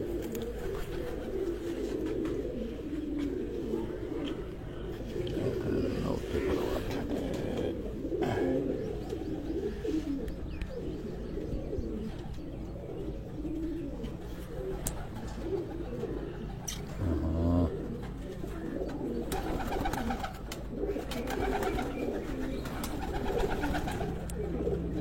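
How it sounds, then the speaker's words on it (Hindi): Khaki breed pigeons coo repeatedly in a loft, overlapping low rolling calls near and far, with brief fluttery noises and no talking. "ये बड़े नायाब कबूतर जो हैं ये आपको दिखाए जा"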